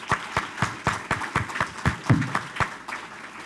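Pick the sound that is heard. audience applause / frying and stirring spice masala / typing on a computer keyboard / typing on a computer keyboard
audience applause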